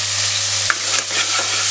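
Chopped tomatoes and onions sauté in a salted pan for a brinjal curry, giving a steady bright sizzle with a couple of soft stirring scrapes, close and continuous with no talking.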